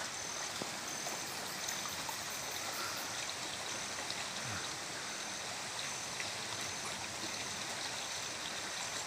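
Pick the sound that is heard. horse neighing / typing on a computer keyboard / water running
water running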